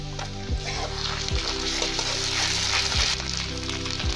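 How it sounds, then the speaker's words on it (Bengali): Chopped onion and cumin paste frying in oil in a wok with nigella seed tempering, a dense continuous sizzle broken by a few spatula scrapes, close and loud with no speech. "কড়াইতে তেল দিলাম, ফোড়নে কালো জিরে দেবো, পেঁয়াজ কুচি দিয়ে দেবো। এবার দেবো জিরের বাটা,"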